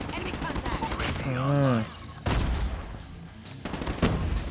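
An HVK-30 rifle fires in the Call of Duty: Mobile shooter game, with quiet bursts of shots breaking through over someone talking and other game sounds.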